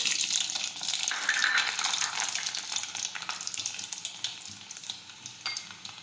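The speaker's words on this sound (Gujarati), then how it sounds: "હવે આપણું તેલ છે તે ગરમ થઈ ગયું છે હવે આપણે તેમાં રાઈ અને મીઠું નાખીશું લસણ નાખીશું" Mustard seeds, salt and garlic sizzle in hot oil in a pan, a loud, bright, continuous hiss with fine popping crackles, close up and without talk.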